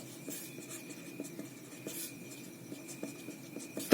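Someone writes on a board during a chemistry lesson. Short, soft strokes and taps come in a loose, regular rhythm, faint and close, with no speech.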